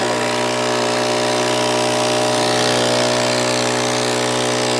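A small 65cc engine runs steadily at constant speed with no load, a loud buzzing drone with no change in pitch throughout.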